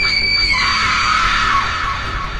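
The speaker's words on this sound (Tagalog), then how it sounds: "bigla kaming nakarinig ng malakas na sigaw." A loud, sustained scream rings out alone for about two and a half seconds, a shrill continuous cry that holds steady and then slowly trails off.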